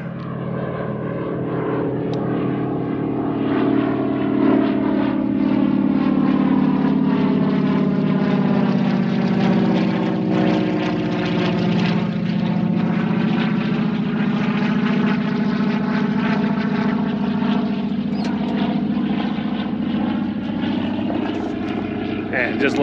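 Big aircraft propeller engines run loud and close with a steady, throbbing drone that swells slightly in pitch partway through, continuous for over twenty seconds.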